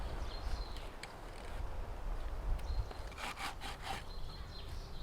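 A knife rasps and scrapes steadily as small side branches are trimmed off a cut wooden branch for a bushcraft pot hanger, a faint, continuous rubbing with a few brief clicks.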